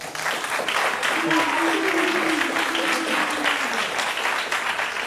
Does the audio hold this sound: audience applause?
yes